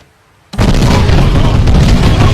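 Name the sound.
explosion at the minister's house in a film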